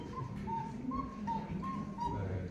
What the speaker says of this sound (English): See the sound of a very young cuckoo bird or baby cuckoo bird.